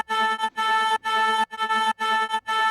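A chopped vocal sample carries the main melody of an electronic drop, cut into short rhythmic bursts with brief gaps, bright and loud, with no talking.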